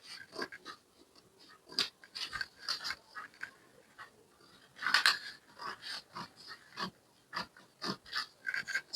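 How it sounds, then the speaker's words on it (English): Scissors cut a paper sewing pattern with a series of close, crisp snips and crunching paper rustles in an irregular rhythm, with no one speaking. "I'm cutting my pattern out."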